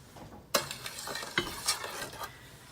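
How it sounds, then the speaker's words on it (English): A sushi mixture stirred in a bowl, with quiet scraping and a few sharp utensil clinks against the side, close and without talk. "All right, and then we're gonna stir it up."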